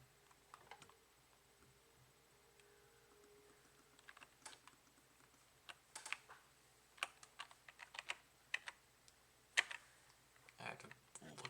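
Computer keyboard typing while playing Genshin Impact, with sparse quiet taps at first building into a quicker run of sharp clicks and clacks close to the microphone.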